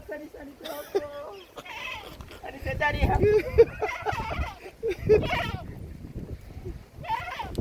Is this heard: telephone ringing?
no